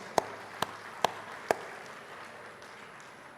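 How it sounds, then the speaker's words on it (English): A few isolated hand claps, four sharp, evenly spaced strikes at a graduation day ceremony, quickly dying away into a quiet room with no sustained applause. "So giving a big applause to all the administrators."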